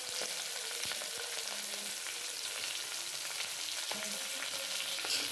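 Green chillies and onions fry in a pan with a steady, bright sizzle and crackle, broken by a few light taps of a spoon stirring, all fairly soft and without talk.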